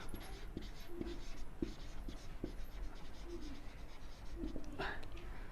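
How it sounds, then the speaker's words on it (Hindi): Chalk or marker writing an English sentence on a classroom board: a series of short scratchy strokes and taps at an irregular pace, close and fairly quiet, with light background room noise. "अगर मैं यहाँ लिख दूँ Madan is a good student"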